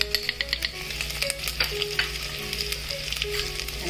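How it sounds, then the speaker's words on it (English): Chili powder and turmeric fry in hot oil while a spoon stirs, giving a close, crackling sizzle with rapid rhythmic scrapes and taps against the pan. "the way the spices are being fried"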